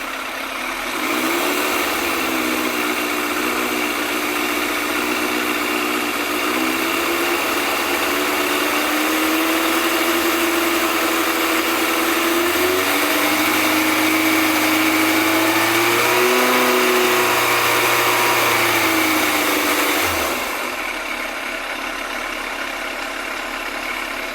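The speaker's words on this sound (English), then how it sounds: "now let me rev the bike" A Yamaha FZR1000 EXUP motorcycle engine revs gently and steadily during carburettor balancing, pitch rising and falling in smooth swells for about twenty seconds before dropping back to a loud, close idle.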